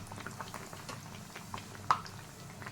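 Maida malpua frying in oil, with a steady soft bubbling sizzle and a single sharper pop near the end, fairly faint and close.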